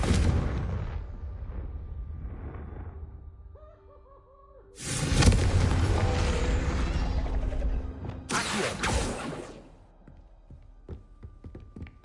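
Fiery Confringo spell blasts in the Hogwarts Legacy video game, two loud explosive bursts a few seconds apart with rumbling tails, set between quieter stretches of game ambience and magical tones.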